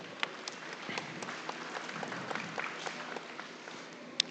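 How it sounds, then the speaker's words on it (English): An audience at an FFA market hog show at the Nebraska State Fair claps for the young exhibitors, a steady patter of applause, moderately distant, with a few sharper claps standing out. "Give all these kids a big round of applause if you would."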